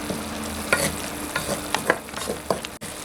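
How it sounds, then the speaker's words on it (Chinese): Pork rib sauce simmers and reduces over low heat in a pan, a steady soft sizzle broken by several stirring scrapes and clacks, close and with no talk. "这时候我们可以调小火收一下汁儿"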